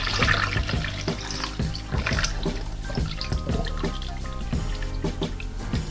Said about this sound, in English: I'm going to drain the water off now.